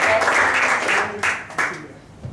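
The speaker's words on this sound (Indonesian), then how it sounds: "Beri aplaus dulu buat para musisi-musisi WLC yang kuat." A church congregation applauds its WLC musicians with dense, steady clapping that fills the room and then tapers off.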